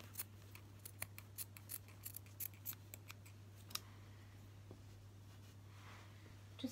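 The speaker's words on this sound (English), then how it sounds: "I'll cut out little pieces of the petals." Scissors snip out small petals of red, black and green fabric, a steady series of quiet, close, crisp cuts over a low background hum, with no talking.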